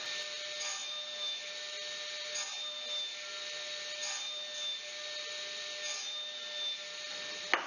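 Saw cutting a wood workpiece guided by a kerf maker jig, a fairly quiet steady high-pitched hiss with faint periodic swells, close and continuous, ending in a brief knock, no voices.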